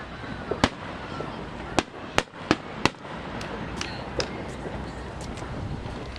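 Fourth of July fireworks bursting over Bethpage Ballpark, a string of sharp, distant booms and cracks spaced a second or so apart, each with a brief echoing tail over wind and crowd murmur.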